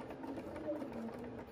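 A sewing machine runs a few stitches along a quarter-inch seam joining quilt triangle pieces: a steady, close mechanical whir with a soft rapid rhythm lasting under two seconds.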